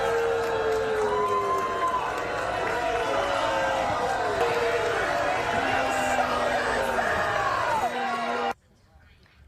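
A crowd loudly jeers and boos Congresswoman Elise Stefanik in her New York home district, a dense, sustained roar of voices with shouts rising above it, cutting off abruptly near the end.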